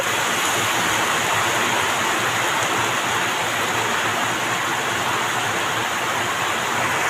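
Heavy rain pours steadily outside a home kitchen where vegetables are being fried, a loud, dense broadband hiss that stays constant and unbroken throughout, with no voices.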